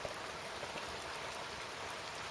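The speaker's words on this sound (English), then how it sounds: "Pissing rain outside." Heavy rain pours outside at night in Ireland, a dense, steady hiss of falling water on surfaces, even and continuous, with no one talking.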